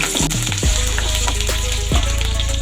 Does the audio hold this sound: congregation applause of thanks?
no